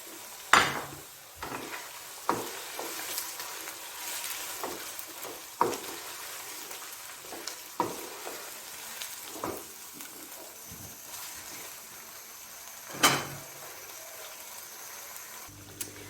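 Chicken Afghani karahi cooks in a pan with chopped green chillies, a soft sizzle broken by repeated stirring scrapes and utensil knocks at irregular intervals, close and fairly quiet.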